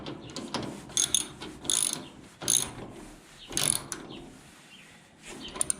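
A ratchet tightens nuts while a Harbor Freight three-shelf service cart is assembled. It gives several separate bursts of rapid clicking at close range, with quieter handling sounds between the bursts and no talking.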